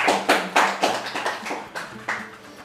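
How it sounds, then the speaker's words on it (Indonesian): A small group claps for a calligraphy student in a class, brief scattered applause of several quick rhythmic claps fading after about two seconds. "tepuk tangan buat Mas Alwi"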